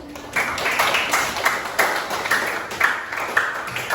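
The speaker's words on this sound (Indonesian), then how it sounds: "Silakan diberi aplaus buat teman kalian" Classroom applause for a student: a steady burst of many hands clapping, dense and continuous at moderate loudness with small surges, no voices standing out.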